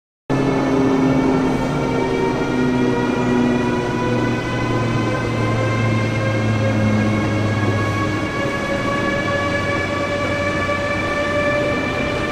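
A train at Stuttgart main station, with a loud, steady rumble and long sustained tonal whine that slowly shift in pitch throughout, filling the platform without any voices.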